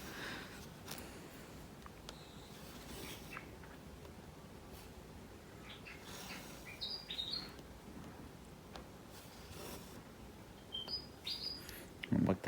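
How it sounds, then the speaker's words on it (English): A wagtail gives a few short, faint, sharp calls outdoors by rocks, heard over steady rustling background noise. "Wagtail's telling somebody off now."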